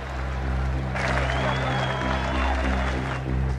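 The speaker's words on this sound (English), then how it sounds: "great applause from the pro-Australian crowd" A pro-Australian cricket crowd at the Adelaide Oval applauds, broad sustained clapping from a large distant crowd over a steady low hum, swelling slightly midway.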